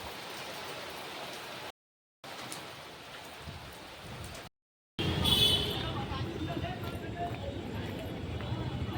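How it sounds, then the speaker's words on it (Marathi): Heavy rain pours steadily outdoors as a broad, dense hiss that swells louder toward the end, broken by two brief silent gaps. "आता खूप पाऊस येऊन राहिला."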